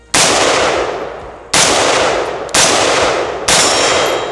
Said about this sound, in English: You're gonna be shooting from the hip